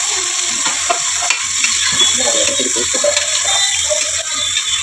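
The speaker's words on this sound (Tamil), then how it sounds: "இந்த வெங்காயம் நல்லா வதங்கி வரட்டும்" Onions sauté in a pan for a chicken biryani, giving a continuous close sizzle and frying hiss broken by scraping stirring strokes, with no voices.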